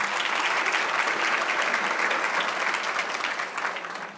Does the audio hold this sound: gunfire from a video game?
no